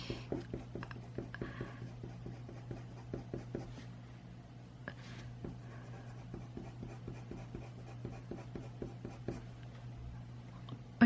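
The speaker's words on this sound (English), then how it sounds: "the pencils have like some sort of ASMR vibe" Quiet, close scratching and tapping of a pencil on paper in short repeated strokes, over a faint steady hum.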